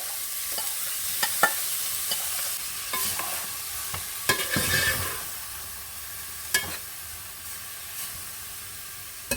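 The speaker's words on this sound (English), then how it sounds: "And add in our soya mince that I just steamed earlier." Steamed soya mince frying in a pan over medium-high heat, stirred with repeated spatula scrapes and taps over a soft sizzling hiss, with a denser scraping burst in the middle.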